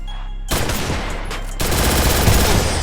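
Rapid automatic gunfire from the Free Fire mobile battle game, dense bursts of loud shots filling the whole clip, intensifying after a brief quieter start, with no talking.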